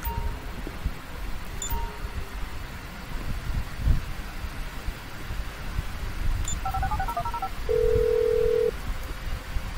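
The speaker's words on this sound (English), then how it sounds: "I'm making the call." Phone being dialed in Grand Theft Auto V: a few soft keypad tones followed by a steady dial-style beep, heard faintly over a low ambient background with a thud partway through.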